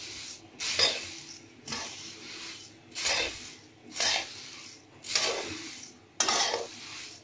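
Puffed rice tossed with fried peanuts in a pan for masala pori, stirred in slow rhythmic sweeps: six rustling, scraping strokes about a second apart, close and clear, with no talking.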